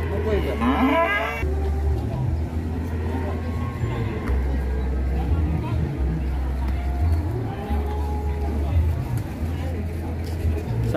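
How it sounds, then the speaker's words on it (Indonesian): An angry, agitated cow bellows in loud, drawn-out moos close by, repeated low calls running almost continuously while people talk nearby and a vehicle rumbles in the background. "Sapinya ngamuk guys"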